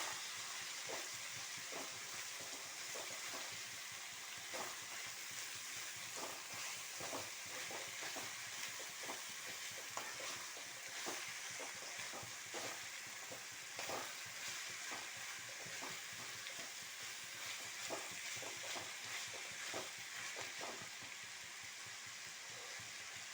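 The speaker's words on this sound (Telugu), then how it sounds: "తరిగి పెట్టుకున్న బీరకాయ కూడా వేసేస్తున్నాను" Chopped ridge gourd fries in oil in a pan, giving a steady, fairly quiet hiss broken by repeated scraping clicks of stirring throughout.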